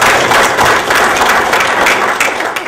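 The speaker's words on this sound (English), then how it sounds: "please give them a round of applause" Loud, close applause from an audience greeting candidates at a Waterford election debate, a dense, sustained wash of clapping filling the whole stretch without pause.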